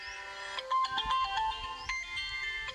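A mobile phone ringtone plays a bright, melodic electronic tune at moderate volume, repeating short note phrases for a few seconds with no one speaking over it.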